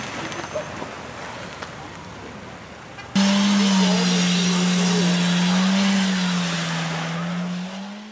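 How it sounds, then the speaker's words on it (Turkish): Cars sliding and skidding on a slippery downhill road, with a loud, sustained tire squeal that wavers in pitch for several seconds after quieter road noise and faint voices. "Yokuş aşağı inen otomobiller de yolda kayma riski yaşadı."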